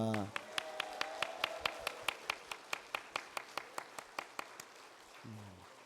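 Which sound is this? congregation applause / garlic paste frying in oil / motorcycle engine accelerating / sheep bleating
congregation applause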